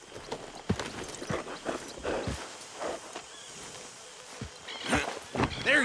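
Horse hooves clip-clop in Red Dead Redemption 2, a steady walking rhythm of close, moderately loud thuds with a few sharper strikes and soft background ambience.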